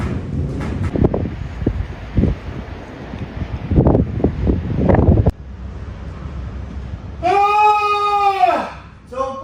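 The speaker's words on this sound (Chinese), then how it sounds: "大风困住了" A strong gale, rated at force 11 with dust, buffets a metal shelter in Xinjiang, roaring and gusting loudly with clattering rattles; a person exclaims and talks over the first half, followed by a sharp tonal whine near the end.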